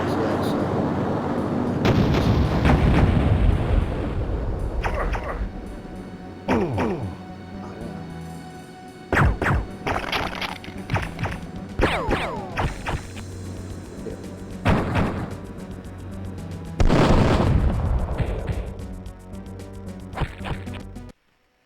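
Video game gunfire from a shooter against aliens comes in repeated loud bursts and booming blasts with short gaps between them, alongside a voice.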